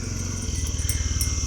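A tractor engine running nearby, a pulsing low chug with a steady rhythmic throb that grows slightly stronger, moderately loud, with no voices.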